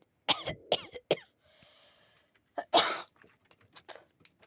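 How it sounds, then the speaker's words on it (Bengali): A person with a cold coughs in a quick run of three harsh coughs close by, then one more heavy cough after a pause, with faint throat sounds between. "ঠান্ডা লেগে গিয়ে কাশি হচ্ছে।"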